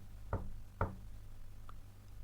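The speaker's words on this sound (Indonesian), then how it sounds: "Terdengar suara ketukan pintu." Two firm knocks on a door, low and close in a quiet room, followed by a faint tap.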